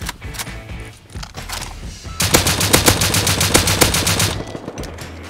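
M2 machine gun in the video game Rust rattling off a long, loud, rapid automatic burst at close range, preceded by softer thuds and movement noise.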